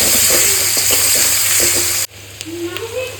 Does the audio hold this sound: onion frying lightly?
yes